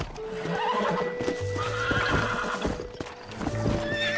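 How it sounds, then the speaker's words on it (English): In the Western video game Red Dead Redemption, a horse whinnies loudly, repeating close by, over the quick clip-clop of its hooves, with no talk. "Where you going with that horse?"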